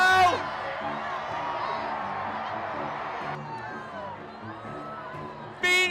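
A crowd gathered outdoors for a solar eclipse, cheering and whooping in a sustained, dense roar of many voices that swells near the end.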